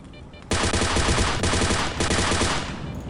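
Sustained automatic gunfire in the STALKER video game bursts in loudly after a brief quiet lead-in, a dense rapid rattle of shots that continues steadily with slight dips and no talking.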